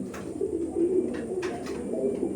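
Imported Giribaj pigeons cooing close by, a soft steady low murmur of overlapping coos running through the whole stretch, with a few faint higher chirps and no talk.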